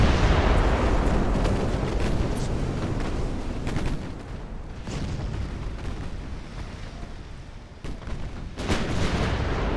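Heavy naval gunfire from 1890-era warships in Ultimate Admiral: Dreadnoughts, a continuous loud barrage of booming salvos and blasts rolling over one another, with a few sharper isolated shots standing out.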